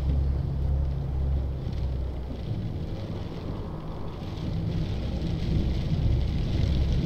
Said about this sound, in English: you can hear the wind howling outside the truck